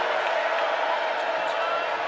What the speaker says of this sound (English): Huge ovation from the Baylor crowd.